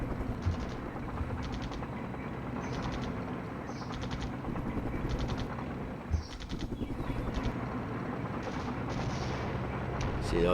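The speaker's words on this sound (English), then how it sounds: "the artillery's like laying the smoke" Artillery fire in the Flashpoint Campaigns: Cold War wargame, laying smoke: a steady rumbling barrage of dull booms and crackling bursts runs throughout at moderate loudness, with a sharper thump near the middle and no talk.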